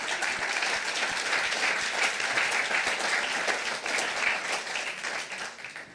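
Audience applause at a science slam, a steady crowd of hands clapping continuously for six seconds at moderate volume, with no one speaking.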